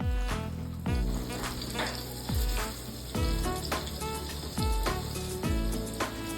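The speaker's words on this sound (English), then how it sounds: "Place the fish piece gently in the pan and fry slowly." Pomfret fish pieces fry slowly in a pan in Konkani coastal style, giving a steady crackling sizzle with a few sharper pops and spits now and then, close up and without speech.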